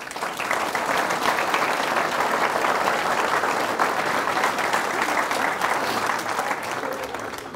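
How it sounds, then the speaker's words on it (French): Sustained audience applause for nursing home staff at a mayor's 2024 New Year address in L'Aiguillon-la-Presqu'île, steady and dense clapping from a large crowd throughout, without talk. "que nous les applaudissions"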